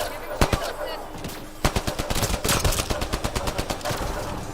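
Rapid bursts of automatic gunfire from the Mass Effect: Andromeda video game rattle loudly, with a couple of single shots first and then dense fast volleys.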